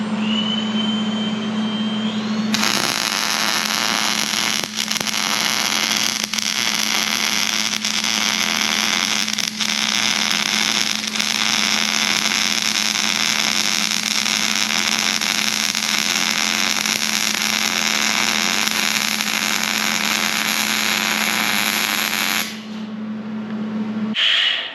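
MIG wire welder running a bead along a crack, a steady loud electric buzz and crackle that holds almost unbroken for about twenty seconds with a low hum beneath, then cuts off abruptly.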